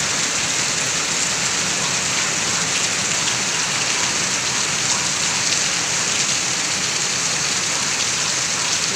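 Heavy rain pours down during a typhoon, a loud, dense and unbroken hiss of drops hitting surfaces close by, steady throughout.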